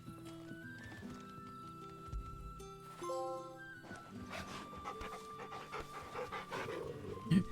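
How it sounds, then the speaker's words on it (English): A dog companion in the Final Fantasy XVI video game panting steadily, with game music and soft hoof-like clopping underneath throughout. "You can pet the dog."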